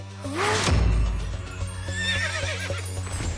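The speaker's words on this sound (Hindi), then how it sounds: "ये तो चेतक की आवाज है।" A horse lets out a loud, wavering neigh, close by, with softer whinnying after it.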